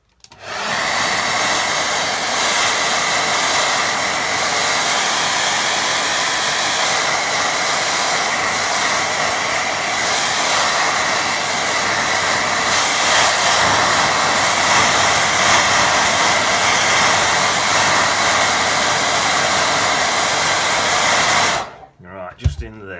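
A hair dryer blows at a loud, steady whir, held close while drying a watercolour painting, running unbroken for about twenty seconds before switching off with a short clatter.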